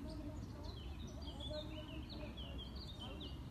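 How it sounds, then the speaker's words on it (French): Birds chirp outdoors in thin, scattered high tweets over a low rumbling background, fairly faint and continuous throughout. "Écoute, le bruit t'as les oiseaux."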